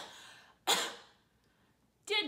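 Two distinct coughs from one person, a loud one followed after a pause by a second, close to the microphone, alone with no talking over them.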